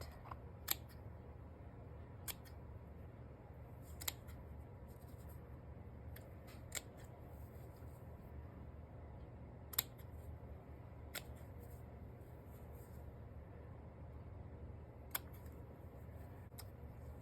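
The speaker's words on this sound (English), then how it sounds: "We're gonna cut. So cut and cut." Scissors cutting vintage fabric scraps: about a dozen crisp, quiet snips spaced irregularly over a faint steady hiss, with no talking.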